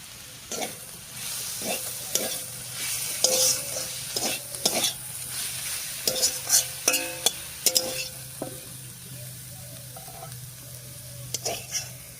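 Bottle gourd leaves stir-frying in a pan, a continuous low sizzle punctuated by repeated clinks and scrapes of a spatula against the pan in an irregular rhythm, close and clear.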